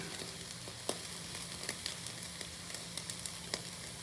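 A flat iron steak sizzles on an infrared side sear burner with a steady, close frying hiss broken by sharp crackling pops at irregular intervals.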